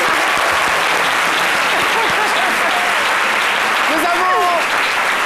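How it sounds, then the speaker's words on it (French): A studio audience at a French-language midday television show bursts into loud, sustained clapping that fills the room evenly from start to finish, while a voice talks faintly over it. "On applaudit pour elle quand même."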